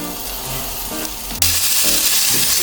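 Bacon hits a heated soup pot with a sudden loud sizzle that turns into a steady, bright frying hiss, following a quieter moment of clinking and movement.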